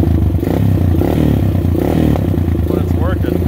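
A quad ATV converted to run on E85, with a newly upgraded carburetor, runs steadily and loudly close by with a rough, rattly drone while a person talks over it.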